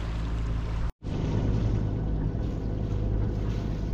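A steady, low engine drone runs throughout, a boat motor humming close by on the Gambia River near Bintang, with a brief dropout near the start, then continuing evenly.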